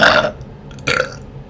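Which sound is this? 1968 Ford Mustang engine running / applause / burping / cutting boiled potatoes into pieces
burping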